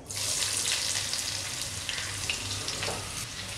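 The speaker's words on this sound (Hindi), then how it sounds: "आधी मिनट के बाद हम इसमें 1 प्याज डालेंगे जिसे हमने स्लाइस कर लिया है।" Sliced onion fries in hot oil with cinnamon, green cardamom and cloves, giving a bright steady sizzle close by that eases slightly toward the end, with no speech.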